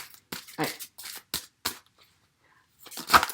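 Tarot cards are shuffled in a series of quick, crisp riffling bursts with brief pauses between, close and fairly quiet.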